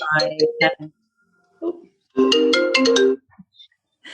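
A mobile phone ringtone goes off during a conversation about miscarriage, a melodic tonal burst of about a second sounding between short bits of nearby talk.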